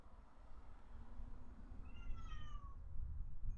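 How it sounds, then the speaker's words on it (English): A single cat meows once, a short rising-falling call heard at moderate distance over a low background rumble. "Ooh, did you hear my cat?"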